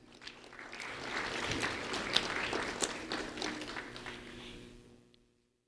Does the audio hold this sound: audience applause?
yes